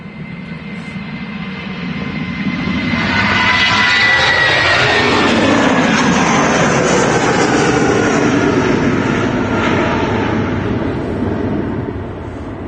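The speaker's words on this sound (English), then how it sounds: "I'd say this is British Airways. It is. It's going back to London Heathrow." British Airways Airbus A320 jet departing Manchester Airport, engines swelling into a loud, broad roar that holds steady for several seconds before easing slightly, with no talking.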